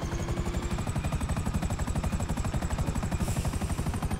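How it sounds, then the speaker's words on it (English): Helicopter in the video game GTA 5 Online, its rotor chopping in a fast, steady rhythmic thud with a constant engine whine over it, close and continuous throughout. "Here's the helicopter."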